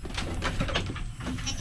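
A goat bleats loudly and close by, a rough wavering cry that fills the whole moment.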